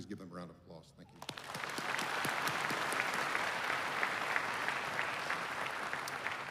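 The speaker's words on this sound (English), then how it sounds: "Please give them a round of applause." Audience applause at a Florida Highway Patrol graduation ceremony breaks out after a brief spoken line and holds steady, a dense wash of many hands clapping in a large room.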